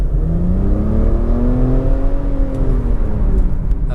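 A 2022 Nissan Rogue Platinum's turbocharged engine pulls under steady acceleration, a loud continuous drone with a slowly rising then easing tonal whine close inside the cabin, no speech.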